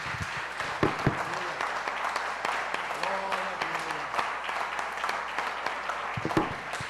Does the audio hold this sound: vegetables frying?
no